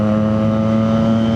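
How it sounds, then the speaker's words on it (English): Steady three-cylinder car engine note, a strong, continuous hum with clear harmonics, held loud and close for the whole moment with no talk over it. "in a way I feel like the 3-cylinder sounds like a bigger engine compared to a 4-cylinder"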